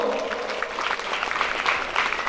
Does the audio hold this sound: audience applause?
yes